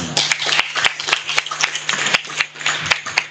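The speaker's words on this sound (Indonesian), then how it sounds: "Tepuk tangan dong." An audience at the launch of a teachers' scientific journal gives short, uneven applause: a few dozen distinct, close hand claps with gaps between them, largely without talk.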